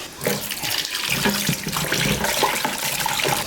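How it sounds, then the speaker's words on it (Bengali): Tap water runs steadily into a sink while raw beef is washed, a continuous close splashing rush with small sloshing shifts and no speech. "এখন আমি গরুর গোস্তটাকে ধুয়ে নিব একটু"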